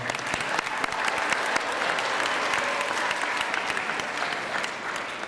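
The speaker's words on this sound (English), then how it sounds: "We'll give them a round of applause for that." A school audience applauds performers at a community event, with a full, steady wash of clapping lasting several seconds that stays loud throughout and tapers slightly at the end.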